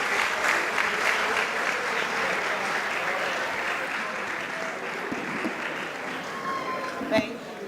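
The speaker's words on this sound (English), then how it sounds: "A round of applause for them as they take their seats" An audience at a University of Ghana and Imperial College student venture demo day applauds a team as they return to their seats. The clapping is broad and steady, slowly fading, with a short sharp knock near the end.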